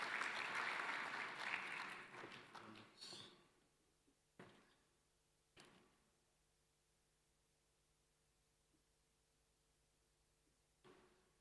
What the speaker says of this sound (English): A big round of applause for Dr. Smelan.